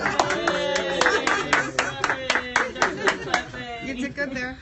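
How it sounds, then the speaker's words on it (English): A single person claps hands in a steady, evenly spaced rhythm of sharp close claps during a bodywork session, with a voice speaking over the claps throughout. "He's going to clap for you there"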